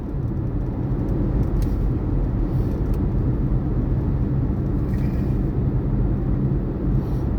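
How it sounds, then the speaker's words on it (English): Sunday road traffic heard from inside a moving car as a continuous low rumble of engine and tire noise, steady and fairly loud, with no talking. "And this is Sunday traffic"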